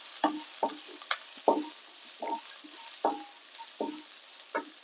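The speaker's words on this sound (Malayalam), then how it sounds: "നല്ലതുപോലെ പുതിന കൊടുക്കുക ഇങ്ങനെ നന്നായിട്ടൊന്ന് ഒന്ന് ഒന്ന് വേവിക്കുക" Mint being cooked in a pan for a Tamil Nadu style mint rice, with a light steady sizzle under repeated soft scraping and stirring strokes of a spatula, close and fairly quiet.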